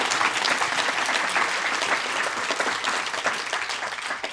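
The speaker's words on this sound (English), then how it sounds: "Let's give a big round of applause for that" A big round of applause from the audience at the Waste to Wonder 2024 presentation, sustained and even, many hands clapping together throughout.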